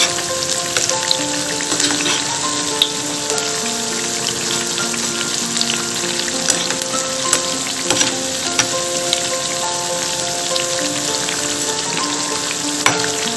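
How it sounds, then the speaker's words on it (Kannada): Bread pieces frying in a pan for Hyderabadi double ka meetha, with a loud, continuous crackling sizzle and scattered small clinks as the pieces are turned, close up and without speech. "ಒಂದು ಸೈಡು ರೋಸ್ಟ್ ಆಗಿದೆ. ಸೊ ಈಗ ನಾನು ಬ್ರೆಡ್ ಪೀಸಸ್ನೆಲ್ಲ ಟರ್ನ್ ಮಾಡ್ಕೊತಿದ್ದೀನಿ"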